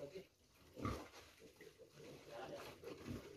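A piglet held in a sack with air holes cut into it, on a hot day, gives faint grunts and squeals with a quiet voice heard nearby.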